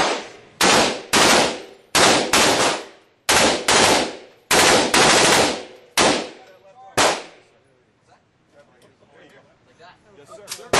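Bursts of fire from an M249 SAW light machine gun on an indoor gun store range, with about seven loud, sharp bursts in the first seven seconds, then quieter room noise.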